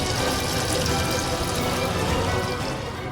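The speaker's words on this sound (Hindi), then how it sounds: "ये बाथरूम का नल कैसे टपक रहा है?" Water running steadily from a bathroom tap, a continuous close rushing splash that holds for a few seconds before easing slightly, no voices.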